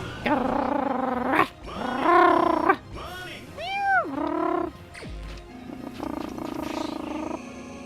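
A human voice imitates a cat-like growl and yowl, producing several drawn-out, pitch-bending feline cries and rumbling growls in close succession, near and fairly loud.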